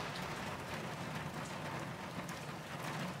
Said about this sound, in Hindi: वो बारिश भी हो रही है